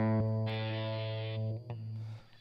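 A synthesized tone in Ableton run through reverb at about half mix, a sustained buzzy harmonic note holding for about a second and a half before breaking off into a decaying tail.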